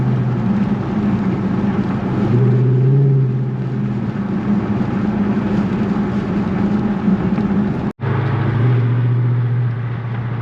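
A 2009 Dodge Charger SRT runs its engine under acceleration, giving a steady, loud, low rumble whose pitch rises and dips, briefly cut off near the end.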